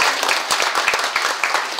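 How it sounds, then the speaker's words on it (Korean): Steady, dense applause from a seated audience at an academic seminar, many hands clapping close together without pause. "우리 모두를 위해서 박수 한번"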